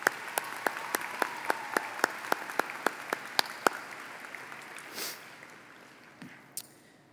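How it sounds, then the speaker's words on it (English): A few people at a high school commencement clap in a sparse, evenly spaced rhythm, sharp distinct claps at moderate distance that stop after a few seconds, leaving quiet with a couple of faint shuffles. "Can we give him another big round of applause?"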